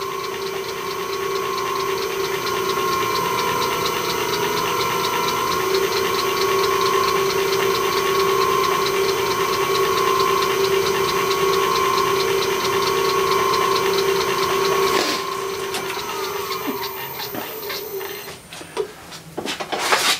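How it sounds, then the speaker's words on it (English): A Myford ML7 lathe motor driven by a VFD at its top speed, a steady close electric whine with a strong constant hum that runs evenly, then winds down and fades near the end. "So the top speed of that motor is 1790."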